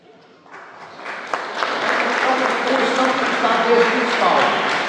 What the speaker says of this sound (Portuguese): Tantas palmas por mim, está bom?